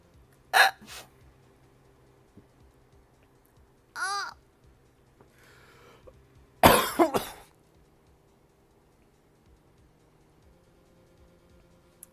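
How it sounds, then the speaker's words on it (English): Hiccups and a cough from a voice actor during a live comedic dub of Ace Attorney: Justice for All, heard as a few sharp vocal bursts spaced apart, the last and loudest a cluster of coughing sounds, over quiet background. "I got taken out by a hiccup."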